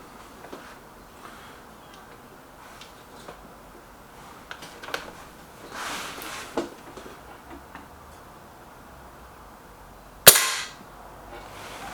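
A Lee Enfield rifle fires a single loud, sharp shot near the end at an outdoor target range, after quiet light clicks and handling sounds, with no one speaking.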